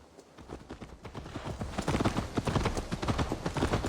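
Horse hooves clip-clop in Assassin's Creed Valhalla, a steady trotting rhythm that grows louder and nearer, with no talk.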